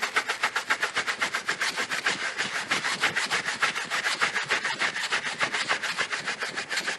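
Stiff brush scrubbing a vinyl awning coated with vinyl cleaner, a steady rapid back-and-forth rasping that runs continuously and fairly loud, close by, with no talking.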